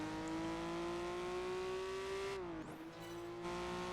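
A racing car engine in Project Gotham Racing 4 holds a loud, steady high-revving drone that dips sharply as it shifts down near the end, then picks back up.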